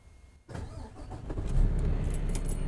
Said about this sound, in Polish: przekręcić kluczyk w stacyjce tak jak do odpalenia i poczekać około 15 sekund